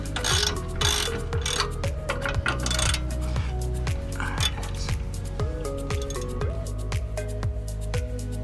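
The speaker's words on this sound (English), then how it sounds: "Just break them loose, and you can ratchet them out." A ratchet backs 17 millimeter bolts out of a 2006 Honda Civic 1.8L during clutch work, giving a rapid, continuous run of close, crisp clicking.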